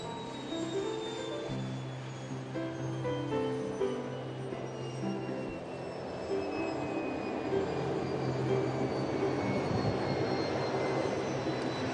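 Steady roar of an airplane's jet engines with a descending whine, continuous and fairly loud throughout, no voices, as the plane arrives in heavy rain.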